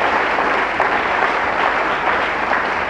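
A church congregation applauds continuously during a French-language worship service, a dense, loud, steady clapping that fills the whole stretch with no break.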